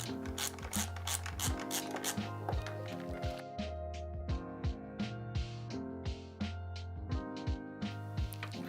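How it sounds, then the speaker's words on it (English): A Phillips head screwdriver backs out the screws holding the original controller on an Apollo Air 2023 electric scooter, producing close, repeated ratcheting clicks and scraping turns in steady bursts, with no voice. "I'm free to remove the original controller with my Phillips head screwdriver"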